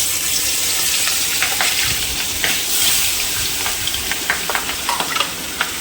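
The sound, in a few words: marinated catla fish frying in oil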